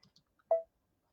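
A single crisp computer mouse click in quilt design software sounds close and clear in a quiet room, preceded by a few faint ticks.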